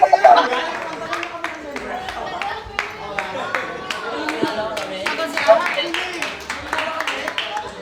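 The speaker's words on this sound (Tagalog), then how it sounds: "Palakpak." A small group claps in scattered, uneven bursts of sharp hand claps, close by, mixed with lively chatter and talking throughout.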